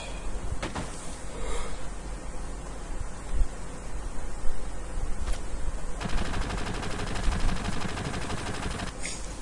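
Gunfire in the video game Final Fantasy VII, with dense bursts of rapid shots and impacts running across the whole stretch over a busy game soundtrack, growing thicker and more continuous toward the end.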